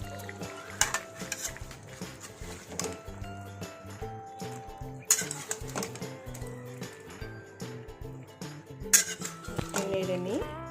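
Fried potatoes tipped into a cooking pot and stirred, giving scattered metallic clinks and scrapes of a spoon against the pot with soft squishy movement, partly under talking and other background sound.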